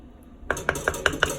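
A spoon knocks against a pot five times in a steady rhythm while coconut rice and peas seasoning is mixed in, each tap sharp and close, with no voices.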